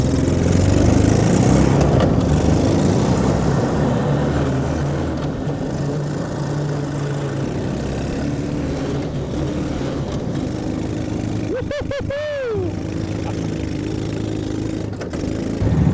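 Small engine of a Tractor Supply mini jeep droning steadily while being driven, a loud continuous buzzing hum with a brief rising and falling whine partway through.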